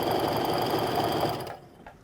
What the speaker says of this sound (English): we're going to start by sewing our straps together